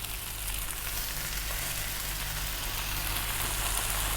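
Chicken pieces frying in a hot pan for Chinese-style crispy chicken with broccoli, giving a steady, loud, close sizzle that holds evenly throughout with no talking.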